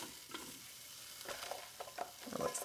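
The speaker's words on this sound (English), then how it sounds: "and they sizzle. That's what I want." Food sizzling and crackling in a hot air-fryer-style multicooker basket, a soft, steady hiss with scattered pops and light clinks, fairly faint and with no talking.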